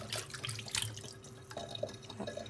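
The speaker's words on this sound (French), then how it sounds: "On va encore rincer." Tap water runs and splashes into a sink during rinsing, a steady close wash with small drips and shifting splashes, no talking.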